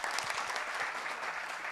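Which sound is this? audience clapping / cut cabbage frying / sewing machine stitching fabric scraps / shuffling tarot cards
audience clapping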